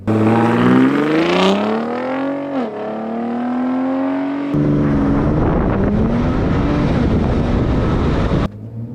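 A Raptor pickup truck's engine roars as it launches hard in 4 auto mode, pitch climbing through a gear, dropping, then climbing again, close and continuous.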